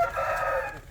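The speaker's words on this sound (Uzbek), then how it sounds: "Bu endi o'zim yoqtiradigan xo'rozim." A rooster crows once, close and loud, a single drawn-out call lasting most of a second before trailing off.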